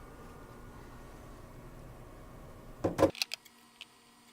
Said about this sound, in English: we can take our new head and insert it. The head will only go into the multipod in one direction